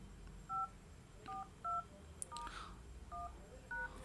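Five distinct keypad tones sound as a code is entered on an Android smartphone, short evenly spaced beeps that are faint and clean over quiet background hiss.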